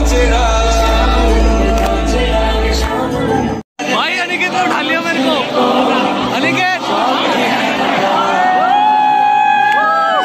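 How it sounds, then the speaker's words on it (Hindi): A dense festival crowd at a college fest presses and shouts all around, loud and close, with whoops, overlapping chatter and a brief dropout early on. "बहुत ज्यादा भीड़ है और लोग ऐसे धक्का मार रहे हैं"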